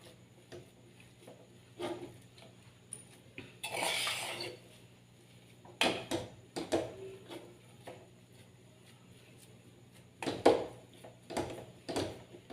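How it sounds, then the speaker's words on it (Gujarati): Vada pav masala mixture is stirred in a pan, with metal spoon clinks and scrapes coming at irregular moments over a low steady hum, plus a short noisy scraping stretch and louder clanks later on, and no speech. "હવે આવી રીતે હલાવીને એકદમ મસાલો બધો બરાબર મિક્સ થઈ જાય ને એવી રીતે આપણે ચલાવી લઈશું"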